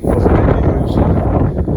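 Loud, continuous wind buffets the microphone with a deep rumbling roar, steady and close throughout, in an open field beside a T-40AM tractor cultivating winter barley.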